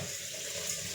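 Tap water running to rinse rice, a steady soft hiss of flowing water, fairly quiet and continuous for about a second with no talk.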